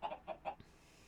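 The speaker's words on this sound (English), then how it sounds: "So the chickens were just running around the house." Chickens in Minecraft give three quick, soft clucks in a row, followed by a faint thud, with no talk.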